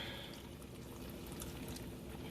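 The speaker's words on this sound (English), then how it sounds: "I'm gonna add a little water." Water pours in a steady, soft stream close by while cooking Nigerian okra soup, a faint continuous splash with no talking.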